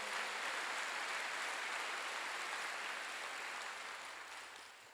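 A church congregation bursts into applause during a Wednesday evening service, a thick, continuous clapping that gradually tapers off over several seconds.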